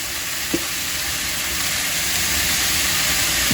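Steady, close sizzling of fried rice frying in a pan, a continuous bright hiss with a brief clink early on.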